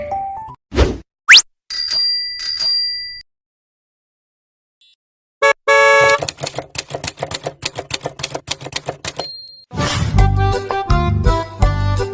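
A notification-bell sound effect, loud and close: a rapid string of chimes, bright dings, pops and typewriter-like clicks, broken by a brief silence, then dense clattering and ringing tones. No one speaks.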